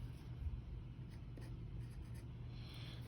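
Pen or pencil writing an addition sentence of fractions during a math lesson, a faint steady scratch of strokes against a quiet background hum, with no talking.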